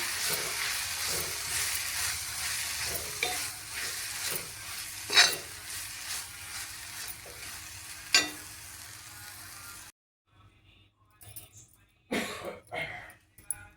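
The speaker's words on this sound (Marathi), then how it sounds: "आपण त्याच्यामध्ये हे खोबरं किसलं आहे ते घालूया आणि परत एकदा व्यवस्थित परतून घेऊया" Grated coconut is sautéed into eggplant bharta with a close, continuous sizzle and repeated spatula scrapes. The pan goes quiet near the end, leaving only a few scattered knocks and faint sounds.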